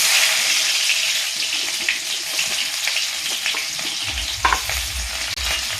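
Chopped onion, black cumin and dry chilli fry in hot white oil in a kadai, a loud steady sizzle with stirring scrapes, and a low rumble joining near the end along with a few clanks.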